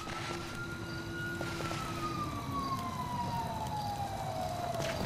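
A police siren wails in the video game GTA V, its pitch gliding slowly downward over a continuous low rumble. The sound is fairly faint and steady throughout.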